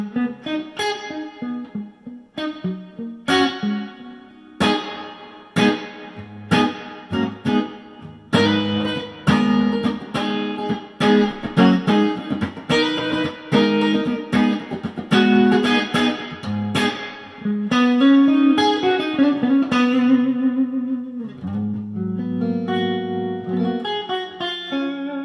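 Electric guitar through an Electro Harmonix Holy Grail Max on plate reverb with the time knob at 12 o'clock, a string of strummed chords and single notes with lengthening washy decay, ending on held ringing notes.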